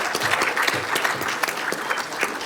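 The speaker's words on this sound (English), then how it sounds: "Could we give a round of applause to our panelists and our students for a great job?" A school event audience gives a round of applause for panelists and students, a steady, fairly loud wash of many clapping hands with no talk over it.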